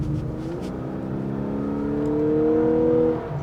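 Lexus LC500h hybrid coupe engine whirs and climbs in pitch as the car accelerates, a smooth rising drone that holds steadily before dropping away as it slows for a corner, heard from inside the cabin.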